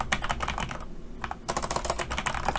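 Quick bursts of clicking on a computer keyboard while entering text into an Excel spreadsheet, with one brief pause partway through before rapid typing resumes, close and clear.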